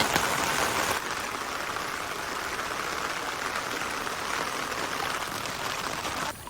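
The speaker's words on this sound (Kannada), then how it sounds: "ಮಳೆ ಜೋರು ಮಳೆ" Heavy rain pours steadily, a loud, dense hiss that holds for several seconds with no talking.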